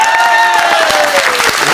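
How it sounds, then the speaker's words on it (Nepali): Loud audience applause at a live dohori folk song performance, dense continuous clapping close and full for under two seconds, with a sustained musical tone running beneath. "जोडदार ताली"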